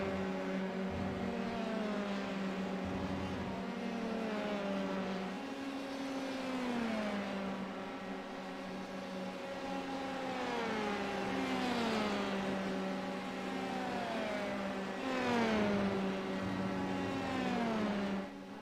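Formula 3 race cars lapping Circuit de Spa in a racing video game, engines whining and rising in pitch through gear changes as several cars pass one after another in a steady, continuous roar.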